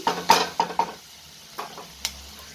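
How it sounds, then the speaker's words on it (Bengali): A potato and capsicum curry is stirred in a pan, producing a quick run of four scraping, clinking strokes followed by two fainter taps over a quiet background. "আর এটা আবারও ভালো করে আমি নাড়াচাড়া করে দিচ্ছি"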